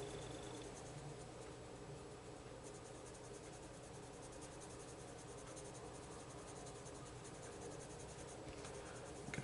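A poppy red wax pencil scratches and scrubs continuously across paper in close, soft, steady strokes, heard alone without any voices.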